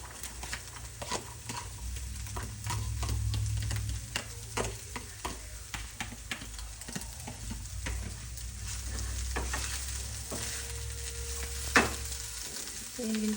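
Onions frying in a pan for fish sisig: a steady close sizzle with repeated stirring scrapes and taps throughout, no voices.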